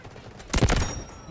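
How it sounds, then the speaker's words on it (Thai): SCAR-H rifle fire in the Delta Force video game: a short, loud burst of rapid shots lasting about a quarter second, close up and set against quieter game ambience. "ยิงไม่โดนเลย"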